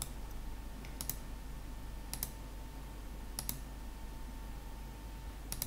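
Sharp, isolated computer mouse clicks while drawing a curve in Marvelous Designer software, four crisp single clicks spaced about a second or more apart over a low steady room hum, with no talking.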